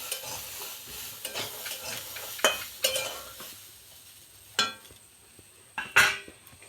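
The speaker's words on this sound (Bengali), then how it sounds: "পেঁয়াজ লঙ্কা দিয়ে ছোলা ভাজাটা আমার হয়ে এসছে" Chickpeas sizzle in a pan with onion and home-grown chili as a spoon stirs them. There are scraping stirs and sharp clinks against the pan at intervals over a steady, soft frying hiss.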